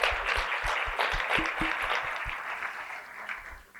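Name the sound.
audience applause for faculty, staff and students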